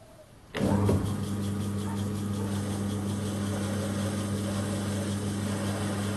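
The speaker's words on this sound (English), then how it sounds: "So I have to use a boring bar just to take a little bit off that." Chinese mini lathe starting up and running while a small boring bar opens out a bore in the workpiece, giving a steady motor hum with a high whine and a faint rhythmic ticking throughout, no talk.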